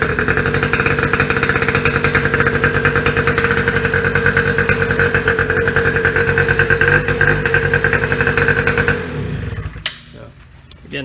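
A Polaris Scrambler 50 engine with a freshly replaced carburetor runs steadily and loud for about nine seconds, its buzzy two-stroke idle holding an even pitch before cutting off abruptly into near silence with a few faint clicks.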